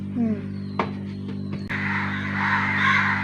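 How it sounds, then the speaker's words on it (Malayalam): A crow caws nearby over a steady electrical hum, with a few sharp clicks and a rising hiss later on. "കാക്ക നോക്കി എന്തൊരു സൗണ്ടാണ്"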